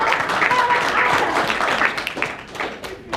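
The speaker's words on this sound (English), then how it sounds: "give a round of applause to yourself" An audience at a health company overview event applauds, a dense, steady wash of many hands clapping that holds loud for about three seconds before thinning slightly at the end.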